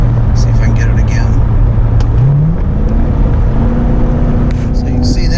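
A car with a performance shift kit and ported throttle body drones loudly at steady revs, its engine note dropping then climbing as the transmission shifts into a higher gear, heard close up and alone.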